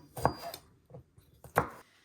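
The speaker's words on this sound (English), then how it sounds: "Next, I'm just chopping up my tomatoes into 4." A kitchen knife chops tomatoes into quarters on a cutting board for a taco salad, giving three or four close, distinct thuds at an uneven pace with short pauses between cuts.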